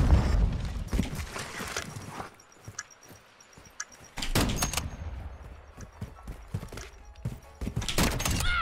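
Horse hooves clip-clop in a stable area of the Modern Warfare 2 shooter game, heard as irregular thuds and clatters mixed with bursts of louder game noise and brief quiet gaps.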